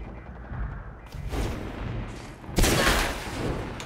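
Automated turret gunfire in the Fallout 4 video game, sounding as loud, rough bursts of shots. A short volley near the middle is followed by a heavier, sustained burst toward the end.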